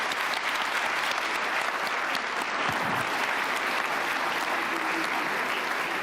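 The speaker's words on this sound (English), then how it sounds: "let's give a huge round of applause to our panel" Sustained applause from a conference audience for a security-conference panel, steady and dense throughout at moderate level with no talk over it.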